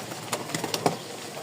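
Pigeons at a loft with cocks present give soft, short cooing calls, several brief pulses spread across a second and a half, faint and close against a quiet background.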